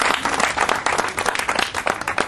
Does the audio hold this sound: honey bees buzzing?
no